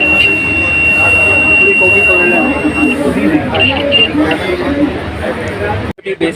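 An alignment sensor's buzzer on farm equipment gives a steady high electronic tone. It runs loud under busy background noise and chatter, then changes into intermittent beeps.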